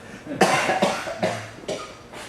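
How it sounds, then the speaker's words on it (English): A few separate coughs, four or five hacking bursts in a row, close by with no talking. "Excuse me, I need to cough."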